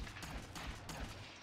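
Gunfire in Fallout 3, a few quick, muffled shots in rapid succession, fairly faint and heard briefly.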